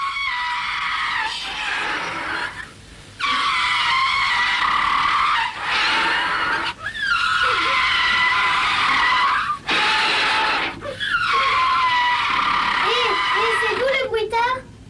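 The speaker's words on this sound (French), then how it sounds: "Je bruite une poursuite de voiture." Foley tyre skids for a staged car chase on a French TV set: repeated long, loud, wavering screeches in bursts separated by short gaps, with rough engine-like noise underneath and no one speaking.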